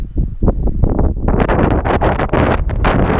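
Strong wind sweeps a windy garden of walnut saplings, buffeting the microphone in loud, continuous gusts, a roaring rumble with rustling bursts throughout and no one speaking.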